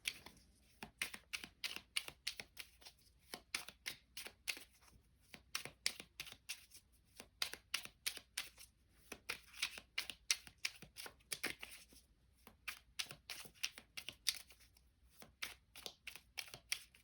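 Tarot cards are shuffled by hand in quick rhythmic bursts of crisp riffling clicks and flutters, repeated many times with short pauses between runs, close and fairly quiet, with no talking.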